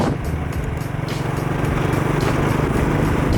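A small motorcycle ridden along roads on the Tuvalu atolls, its engine giving a steady, close buzzing drone with a slight throbbing pulse that holds even throughout, with no talking.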